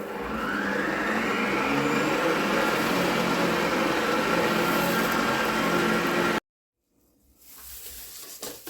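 A steady, loud whirring of an electric mixer beating cake batter with eggs, butter and milk runs for about six seconds, then cuts off abruptly, followed by quieter handling noise.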